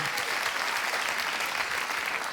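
Steady, dense applause from a crowd, continuous clapping at even loudness throughout with no voices.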